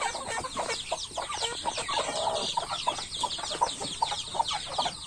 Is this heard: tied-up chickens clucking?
yes